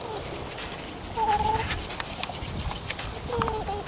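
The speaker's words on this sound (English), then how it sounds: "having a go with a fire drill, hand drill" Rhythmic scratchy rubbing of wood on wood from a hand drill spun to light a fire, fast back-and-forth friction strokes, close and moderately loud, with a few faint squeaks.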